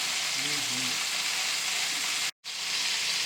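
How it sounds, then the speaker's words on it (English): Seasoned meat sears loudly in a hot pan, browning on each side and edge, with a close, continuous hiss that cuts out for a moment near the end. A voice murmurs briefly underneath at the start. "I want to sear it on every side and every edge"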